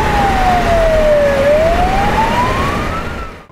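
An emergency vehicle's siren wails loudly nearby on a city street, sweeping slowly down then up in a single long tone before fading at the end.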